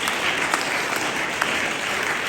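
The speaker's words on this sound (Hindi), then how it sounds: "सर के लिए एक बार जोरदार ताली" Loud, steady applause from an audience at a talk on teaching and school management, continuous dense clapping throughout with no voices.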